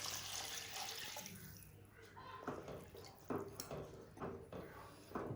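Tamarind juice poured into a simmering bitter gourd and mango curry, a steady liquid splashing and trickling that fades, followed by a few clinks and taps close by, with a little background noise.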